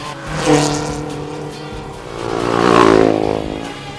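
Rally cars racing along a dusty mountain track in the Giri Valley gorges, engines roaring and revving loudly in two surging passes, rising and falling as they go by.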